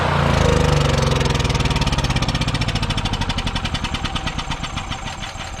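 A Yamaha generator with a mouse nest inside runs loud and close, its rhythmic engine pulses slowing and spreading apart as it winds down toward shutting off.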